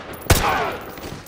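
A single loud rifle shot cracks out in the shooter game Call of Duty Modern Warfare 2 Remastered, a sharp blast followed by a short, fading rumble of echo.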